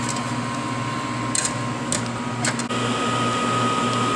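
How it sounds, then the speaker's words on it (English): High-speed blower at the bottom of an Oriel 82431 exposure system lamp housing, a steady loud mechanical hum and whir with a low tonal drone, broken by a few brief clicks. "blower at the bottom of the lamp housing, so the air in the room is sucked through the ventilations"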